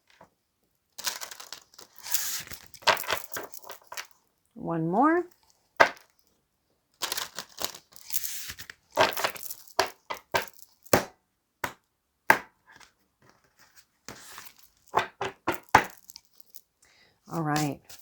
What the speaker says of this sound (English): All decks have been pre-shuffled, but I do like to shuffle on camera as well.